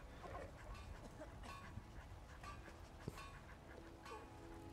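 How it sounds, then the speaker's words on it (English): Several dogs in the video game Skyrim, heard as scattered soft whimpers, pants and yips over a busy game background, moderately quiet with no clear bark standing out. "Hey, Alpaca, that's a lot of dogs."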